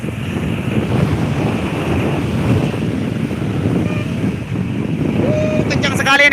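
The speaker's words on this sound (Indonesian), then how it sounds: "Kencang sekali ini, kencang anginnya" Strong wind roaring across the microphone in a constant heavy rush, with a high whistling tone rising near the end.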